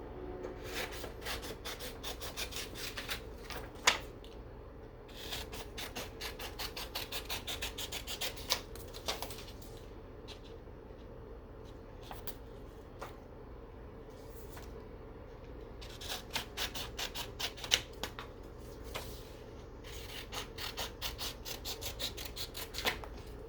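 Scissors cutting through a sublimation transfer design for crew socks, a quiet continuous rasping and snipping with brief louder crunches, close up and without speech.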